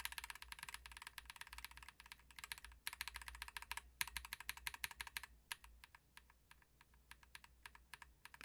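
Rapid keypresses on a mechanical keyboard fitted with Blue Velvet linear switches and GMK Camping round 2 keycaps, a dense run of crisp, close clacks that thins into sparser, separate strokes toward the end, with no voices.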